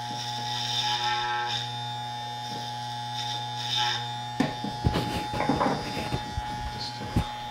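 Andis Masters hair clippers run with a steady, close electric hum throughout, joined in the second half by irregular sharper snips and rustles as the blades cut hair.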